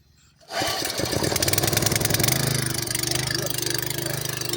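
An engine-driven irrigation water pump starts up after a quiet moment and settles into a loud, steady rhythmic chugging drone that continues to the end.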